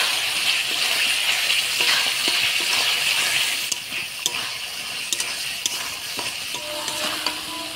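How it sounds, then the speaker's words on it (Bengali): Spice paste with garlic sautéing in a pan with a splash of bowl-rinsing water for a chicken curry, a close, loud, continuous sizzle with scraping stirring noises throughout. "আর বাটি ধোয়া জল দিয়ে দিব মশলাটা ভালো করে কষানোর জন্য"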